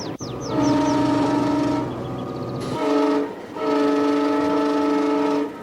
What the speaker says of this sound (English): As she brings the train into a station